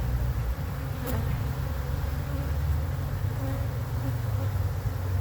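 Dense, steady hum of honeybees swarming around hive frames fitted with plastic foundation, a constant close buzz with no voices.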